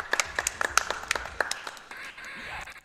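A few people clapping in quick, scattered claps that fade into a steady room murmur.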